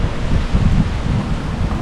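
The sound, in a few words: rain and thunder outdoors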